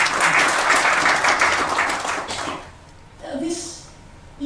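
Audience applause for a guest at a dinner discussion swells for a couple of seconds, then dies away, followed by a brief murmur of voices.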